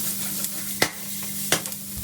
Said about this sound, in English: We've got onions and garlic in the pan together.